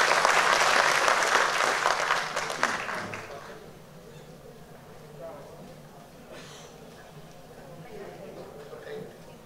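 An audience in an auditorium at a human rights day ceremony gives dense applause that fades out after about three seconds, followed by quieter room noise and speech.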